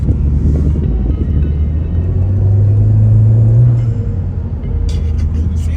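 Subaru WRX turbo engine accelerating, a loud low rumble with a rising drone and wind buffeting, heard from inside the car.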